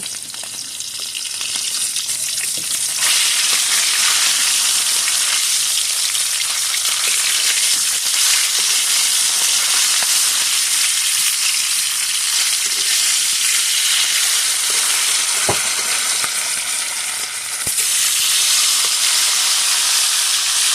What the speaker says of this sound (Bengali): এই পাশ ভাজা হয়ে গিয়েছে